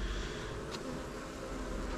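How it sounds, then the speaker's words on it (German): Honey bees buzz steadily around small Apidea mating boxes, a dense, continuous hum at moderate distance with no voices over it. "Die Altbienen werden hier übrigens zurückfliegen."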